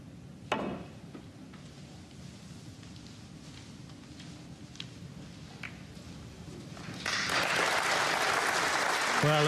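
Audience applause breaks out at a snooker match, the English Open quarter-final between Neil Robertson and Anthony McGill, rising sharply near the end into sustained clapping after a quiet arena hum and a few isolated clicks.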